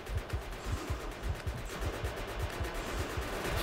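Quiet, rhythmic gunfire while fighting aliens in Factorio, a steady stream of low repeated shots pulsing at an even pace in the background.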